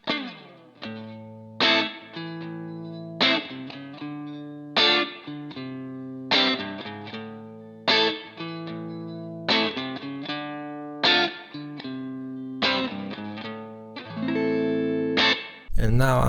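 Electric guitar on the neck pickup at full volume through a Line 6 POD GO running a VOX AC30 amp model with room reverb, playing repeated strummed chords with a driven breakup tone, each strike ringing then cut short in a steady rhythm.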